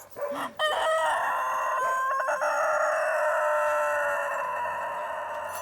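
A rooster crows close and loud in one long, drawn-out call, preceded by a couple of short clucking notes, with a quiet farmyard background.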